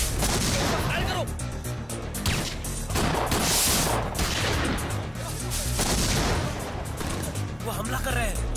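Gunfire erupts during a film shootout between customs officers and attackers, with dense, loud bursts of shots and crashes. Shouting voices are heard throughout the clip.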